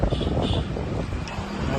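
Wind blowing at a rooftop tea stall, with loud, constant gusts buffeting the microphone in a deep, rumbling roar.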